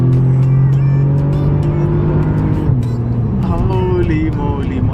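A Bentley W12 twin-turbo engine revs nearby, giving a loud, deep, steady drone with a rising, shifting tone partway through.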